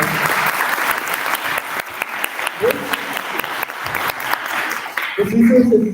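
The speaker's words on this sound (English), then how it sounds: "Let's give Elizabeth a round of applause for this." An audience at a community culture circle claps warmly in a sustained round of applause, with voices rising over the clapping toward the end.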